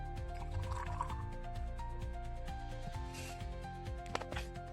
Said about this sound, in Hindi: अब इसके ऊपर का पानी जो हम निकाल लेंगे।